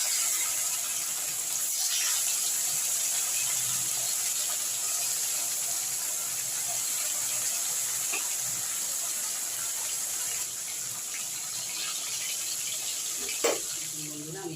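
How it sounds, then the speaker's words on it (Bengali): Pieces of fnasha fish fry in hot oil, a steady hiss of sizzling that holds evenly throughout, with faint clatter and a sharper knock near the end. "আমি এবার মাছগুলোকে এক এক করে ভেজে নেব"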